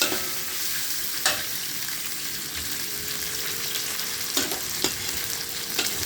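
Fish strips frying in hot oil give a steady broadband sizzle with a few brief utensil clinks and scrapes, close and fairly loud, with no talking.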